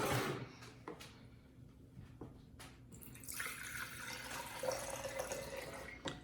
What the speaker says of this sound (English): Can you please pour that glass of water into this large container?